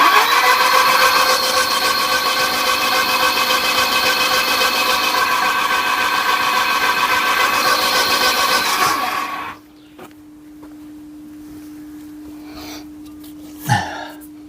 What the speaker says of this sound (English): I'm just going to wind it over and see what, if anything flies out of any of them plug holes.